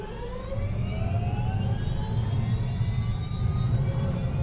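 An Airbus H130 T2 helicopter produces a loud, steady turbine and rotor roar with a deep rumbling drone that holds constant and close throughout.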